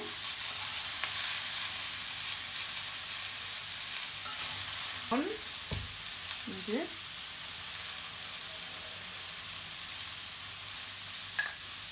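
Onions, turmeric, vegetables and green chilies fry in a pan for a kachki fish dish, a soft steady sizzle with a few scraping stirs and faint clatter partway through.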